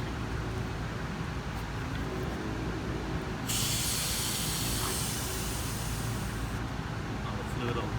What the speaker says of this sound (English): Got about 18 PSI on here. I just go ahead and loosen this cap slowly.